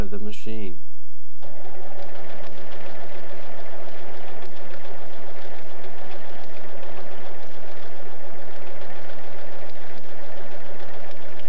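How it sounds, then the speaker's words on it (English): A home sewing machine stitching a decorative stitch with silk ribbon wound in the bobbin case runs in a steady, loud, close whir and hum for several seconds after a brief voice at the start. "you'll want to sew with the right side of the fabric down to the bed of the machine"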